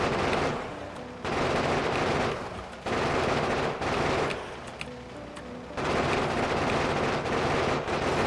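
Factorio gun turrets firing piercing ammo, loud rapid bursts of machine-gun fire in several long sustained volleys separated by brief gaps, close and dominant with no talk.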